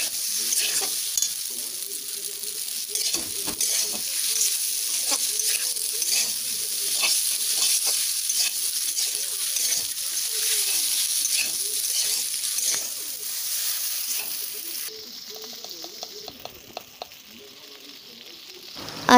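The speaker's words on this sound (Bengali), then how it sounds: "এটাকে এখন ভালো করে নেড়ে চেড়ে একটু একটু ভাজতে হবে" Pasta fries in a pan with a steady, bright sizzle, while a utensil stirs it in repeated scraping strokes. The sizzle drops back near the end.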